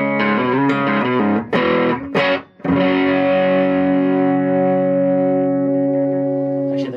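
Electric guitar through overdrive pedals, a LazyJ Cruiser and a Super Lead combined, strikes a few chords with brief gaps, then lets a thick distorted chord ring out and slowly sustain, loud and close.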